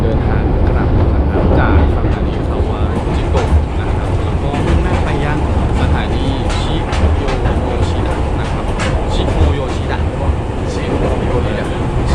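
A loud, continuous rumble of a train rolling along near Kawaguchiko, Japan, with rattling clatter and some voices mixed in underneath.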